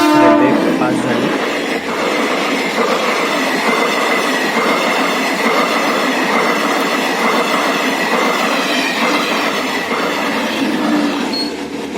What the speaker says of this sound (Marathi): ऑफिसला जायला निघाल्यावरती रेल्वे फाटक बंद होतं, त्यामुळे रेल्वे पास झाली.